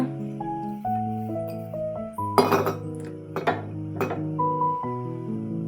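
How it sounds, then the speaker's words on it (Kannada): A metal pan for tempering clanks and clinks several times against a surface while steady background music plays. "ಒಗ್ಗರಣೆಗೆ ಒಂದು ಪ್ಯಾನ್ ಇಟ್ಕೊಳ್ಳೋಣ."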